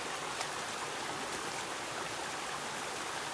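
Creek water flowing steadily toward a small waterfall on a hike, a continuous broadband rush that holds even and fairly close throughout, with no voices.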